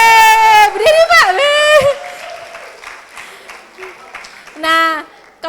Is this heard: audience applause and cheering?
yes